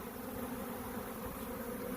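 A bee swarm buzzes in a steady, dense drone while being shaken from a swarm, a low continuous hum with no break and no voices.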